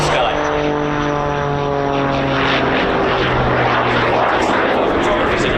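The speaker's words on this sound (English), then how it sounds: "Spooling up again as he spirals up into that beautiful sky." An aerobatic propeller plane at an airshow, its engine note rising and shifting in pitch as it spools up while spiralling upward, loud and sustained with harmonic drone throughout.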